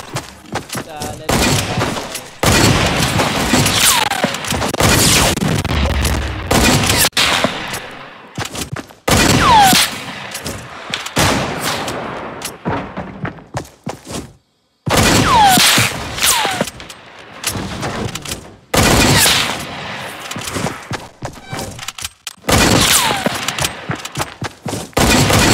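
Repeated gunfire in Fortnite comes in loud, dense bursts and volleys separated by brief silences, sharp shots clustering close together across the whole stretch.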